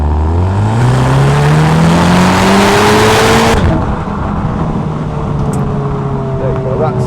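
A 2017 Audi TTS 2.0 TFSI Black Edition S tronic quattro accelerates hard on a test drive, engine note climbing steadily through the revs from inside the car before easing off, with a voice over the quieter cruising.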